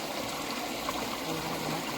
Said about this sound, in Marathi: पाणी आहे